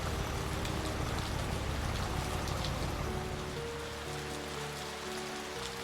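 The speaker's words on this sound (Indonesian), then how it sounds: "Karena kondisi hujan yang lebat" Heavy rain pours down steadily near a railway level crossing, a dense, continuous hiss of drops on surfaces that stays loud throughout, with a low rumble that eases slightly in the final seconds.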